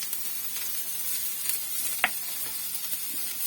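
Carrot, capsicum and broccoli sautéing in a little oil in a pan give a steady close hiss with one brief clink partway through.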